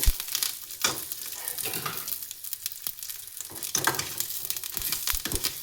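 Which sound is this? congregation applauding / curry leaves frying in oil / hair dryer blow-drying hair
curry leaves frying in oil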